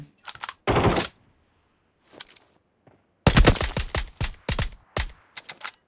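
Loud video game gunfire in a Thai military shooter, with a dense automatic burst, several single shots, then rapid volleys of close, sharp cracks in uneven clusters.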